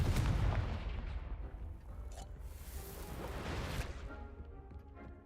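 A Confringo blasting spell going off in the video game Hogwarts Legacy, a loud close explosive boom with whooshing debris that fades into a rumbling tail, no talking.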